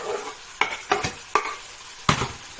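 Bean sprouts and pork belly being stir-fried, with five sharp scraping strokes at an uneven pace over a steady sizzle. The sound is close, with no talking.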